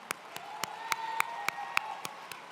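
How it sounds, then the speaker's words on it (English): A banquet audience claps for Jonah at a student-athlete event. Sharp, evenly spaced claps come close and clear, building briefly and then thinning out over a couple of seconds. "can we give Jonah a round of applause?"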